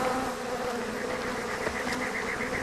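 A swarm of aggressive African bees buzzes in a loud, continuous drone in Arizona, layered wing hums holding steady and close throughout.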